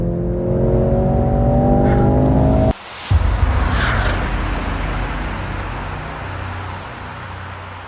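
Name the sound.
Mercedes-AMG C 63 S E-Performance car accelerating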